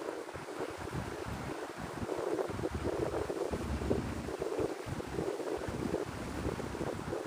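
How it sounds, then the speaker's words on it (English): Water lapping along the shore of Santa Rosa Sound in Navarre, Florida, a steady low wash blended with gusting wind rumbling across the microphone, continuous and fairly close, with no voices. "Can you guys still hear a little bit of the water?"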